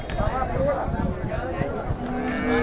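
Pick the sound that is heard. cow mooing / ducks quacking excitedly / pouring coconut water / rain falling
cow mooing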